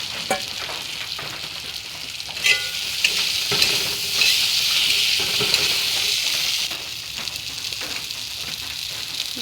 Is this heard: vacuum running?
no